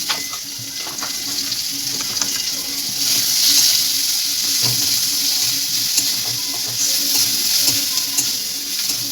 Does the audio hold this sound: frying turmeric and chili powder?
yes